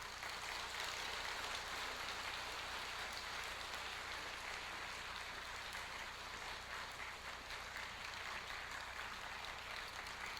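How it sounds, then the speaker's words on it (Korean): Church congregation applauds to welcome the pastor in a steady, dense wash of clapping that holds evenly throughout, fairly faint and distant, with no talk over it. "목사님 나오실 때까지 큰 박수로 환영하시겠습니다."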